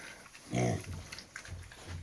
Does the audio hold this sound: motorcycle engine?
no